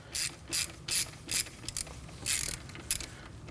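A ratchet on a long extension loosens the transmission cap on a 2011-2016 Kia Optima 2.4L, giving about six sharp bursts of clicking in an uneven rhythm, close and fairly loud with no voices.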